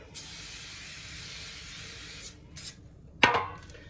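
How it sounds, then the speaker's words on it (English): A long, quiet aerosol hiss of non-stick cooking spray into a loaf pan for about two seconds, followed by a few short bursts and a sharper spritz near the end. "Just going to use a little bit of non-stick spray"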